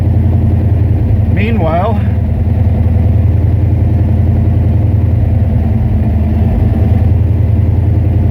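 A car engine idles while warming up, a steady low rumble running throughout beneath a voice talking close by.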